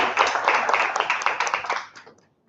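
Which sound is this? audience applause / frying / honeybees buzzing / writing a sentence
audience applause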